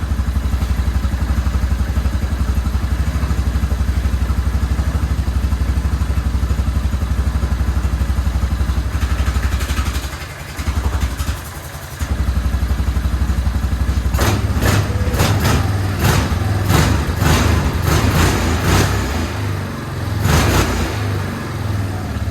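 A 2008 Yamaha Grizzly 350 ATV engine idles steadily while warming up, a loud, continuous close-up rumble with a brief dip midway and some clattering, sharper mechanical knocks in the latter half.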